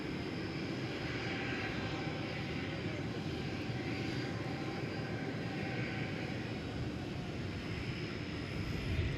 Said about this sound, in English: Takeoff, American 1434.